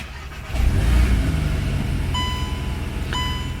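A 2022 Volkswagen Mk8 Golf R's engine fires up via the push-button start, a loud low rumble settling into a steady idle, with a couple of short high electronic chimes sounding near the end.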